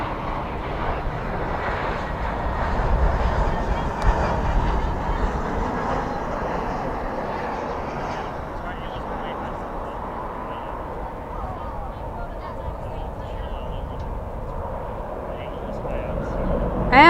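An Airbus A321 landing at night at Dallas/Fort Worth International Airport, spoilers up and thrust reversers deployed, gives a steady broadband jet roar that swells slightly and holds throughout, with a voice talking over it.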